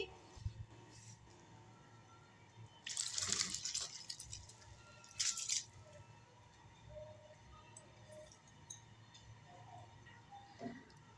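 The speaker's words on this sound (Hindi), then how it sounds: "पानी को बॉयल आ गया है अब हम इसमें अपने चावल डालेंगे" Rice poured into a small pan (kadhai) of boiling water, giving two short bursts of splashing and hissing over a low, steady simmer in a home kitchen.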